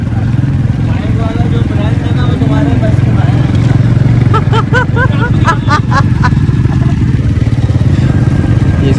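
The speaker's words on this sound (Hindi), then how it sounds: "ये सामने से ऑटो आ रहा है," An auto-rickshaw approaches along a busy Hyderabad street near a school, its small engine chattering through steady traffic rumble, with voices talking over the noise.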